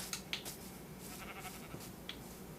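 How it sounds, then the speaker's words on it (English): Sheep bleat in the video game Minecraft on a farm being built, with a few short, quiet bleats over a faint steady background and no speech. "that's what I want is sheep"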